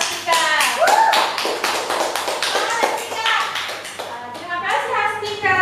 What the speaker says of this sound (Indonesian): Beri tepuk tangan untuk Hastika.